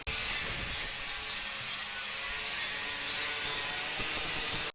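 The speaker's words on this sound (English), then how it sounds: "Carlos has been grinding away in that anchor room" Steady, loud high-pitched whine of a power grinder working inside a boat's forward anchor locker, running continuously without a break and cutting off abruptly at the end.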